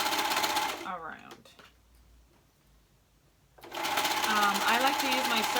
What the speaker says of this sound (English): I like to use my serger.